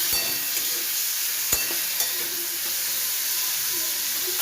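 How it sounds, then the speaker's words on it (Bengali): Potatoes frying in a pan give a steady, close sizzle with soft stirring scrapes and a couple of brief clinks, with no voices over it. "আলুটা ভাজা হতে থাক"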